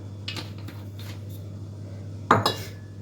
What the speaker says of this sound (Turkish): Güzelce şimdi bunu harmanlıyorum